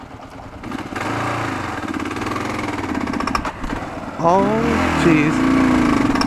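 A Kawasaki KLR650 motorcycle lugs away from a stop in too high a gear, its engine chugging low and nearly stalling before the revs pick up. A rider's brief exclamation is heard over the engine.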